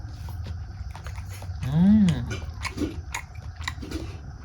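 Close, soft chewing and biting sounds come from someone eating bean mash with rice seasoned with mustard oil, and a voice sounds briefly over the chewing.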